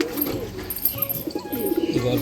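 A short burst of soft, rolling coos from Madras pigeons kept at home, close by, with a few brief higher notes near the end.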